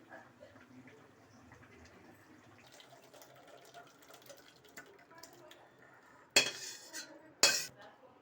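Cooked Bengali-style potato curry (niramish aloo dum) is tipped out of the pan, heard as two sharp metallic clanks and scrapes near the end after a quiet, low kitchen background.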